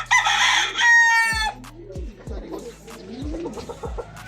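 A rooster crows loudly and close by in a long rising-and-falling call, followed by several short clucks and low fowl sounds at a backyard bird coop.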